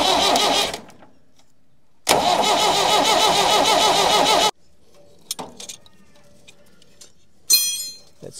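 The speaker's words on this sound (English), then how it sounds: "I've got these other leads running directly to the starter. So we'll see if that spins over any quicker." A 50-year-old tractor engine that sat for years cranks over on its starter, fed by leads wired directly to it, in two loud, close, rhythmic churning bursts separated by silence, followed by faint clicks and rattles.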